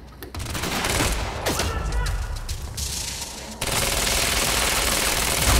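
Sustained rapid gunfire from a third-person shooter, Quantum Break, with dense bursts of automatic fire and impacts filling the whole stretch, growing heavier and more continuous in the second half.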